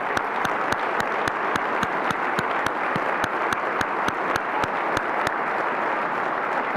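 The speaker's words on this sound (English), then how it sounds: "I want them to stand up and give them a round of applause as well" Luncheon guests at a State of the City event applaud the city council, with loud, sustained clapping and sharp individual claps standing out close by throughout.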